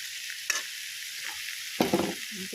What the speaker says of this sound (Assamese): দি এতিয়া ধুনীয়াকৈ মই এইকণ ভাজি ল'ম।